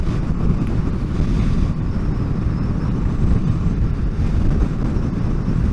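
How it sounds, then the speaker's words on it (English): A side wind buffets the microphone while riding a Honda VFR800 motorbike, a loud, constant low roar of wind rush mixed with road and engine noise, no voices. "A bit of a side wind there."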